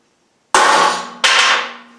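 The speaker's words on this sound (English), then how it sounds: "We're going to center punch each one of them." Two sharp metallic hammer strikes on a center punch set against forged steel for a key rack, close and loud, each ringing out and fading before the next lands about 0.7 seconds later.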